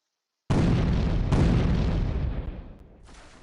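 Cannon fire booms in the naval game Port Royale 2: two heavy, close blasts in quick succession, each a deep roaring burst that rumbles and slowly fades, followed by a third fainter one.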